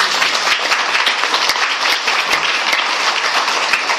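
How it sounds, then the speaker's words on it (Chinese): Audience applause at a lecture-style gathering, dense and sustained clapping from many hands filling the whole stretch at steady loudness with no talk over it. "那要不要再鼓掌一次？"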